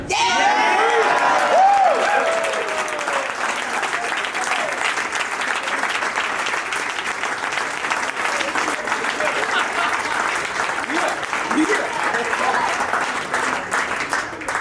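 Thunderous audience applause with scattered cheers and whoops at a corporate award ceremony, loud and steady for the full length, a little heavier at the start, with no clear speech over it.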